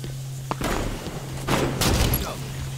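Gunfire in the Halo 5 video game, several loud sharp shots and booms in quick bursts over a steady low hum.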